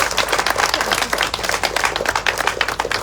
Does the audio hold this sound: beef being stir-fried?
no